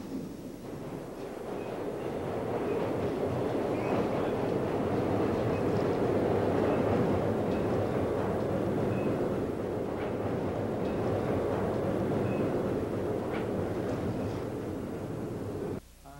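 A Manhattan-bound subway train on the B/D/N/Q lines passes through Myrtle Avenue station in New York, giving a loud, sustained rumbling roar with rail screech. The roar holds steady for about fifteen seconds, then cuts off abruptly.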